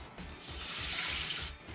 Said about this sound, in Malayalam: ഇതിലേക്ക് നമുക്ക് ഒരു 2/2 കപ്പ് വെള്ളം ഒഴിച്ച് കൊടുക്കാം.